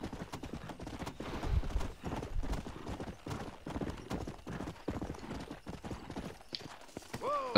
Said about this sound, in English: So we're just gonna get on our horse.